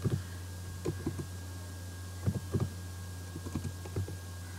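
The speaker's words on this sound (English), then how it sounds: "let's search this interface by pressing Ctrl Shift T from JDK. Then you will have to type" Scattered keystrokes on a computer keyboard, a few quick taps in small bursts with pauses, close and quiet over a steady low electrical hum.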